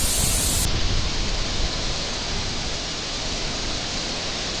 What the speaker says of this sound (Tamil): நாங்கள் ஃபால்ஸ் பக்கத்தில் வந்திருக்கோங்க. செம்ம சாரல் வருங்க